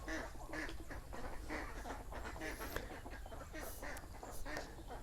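Ducks quack repeatedly by a pond on a rural plot in Thailand, a busy cluster of calls over steady outdoor background noise, fairly close and continuous throughout.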